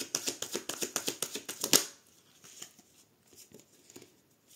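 Tarot deck being cut and riffled by hand during a Sagittarius reading: a quick run of about a dozen crisp, rhythmic card flicks, close and clear, ending in one sharper snap, then soft faint handling rustles.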